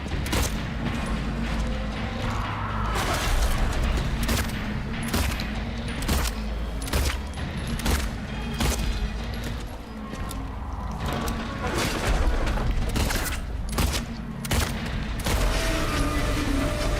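Gunshots fired at a monster's head in Silent Hill 2, a series of spaced, heavy reports thudding over a dense rumbling game ambience, with loud sharp hits repeating across the stretch.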